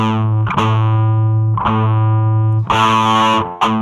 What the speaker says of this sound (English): you have a tube driven amp. So it's to simulate a tube